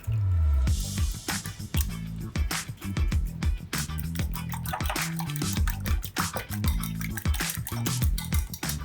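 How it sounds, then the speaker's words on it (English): Eggs are whisked briskly in a bowl, a fast rhythmic run of close, wet clicking strokes against the sides that carries on steadily without talk. "I need to get my eggs whisked"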